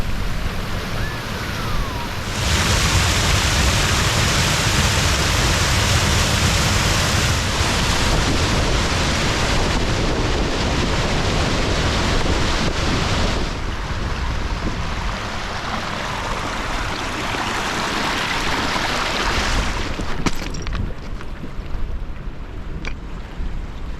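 A river rushes and tumbles steadily in Snowdonia along the Watkins Path, a broad, continuous wash of water with some gusting wind noise, and no voices.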